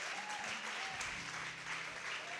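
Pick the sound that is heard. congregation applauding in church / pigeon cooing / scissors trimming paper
congregation applauding in church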